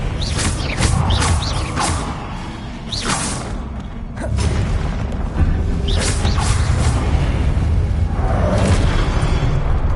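Harry Potter-style Confringo blasting spells burst repeatedly in a video game, a dense run of booming impacts, whooshes and creaking mechanical crunches packed closely together at loud, steady volume with no talking.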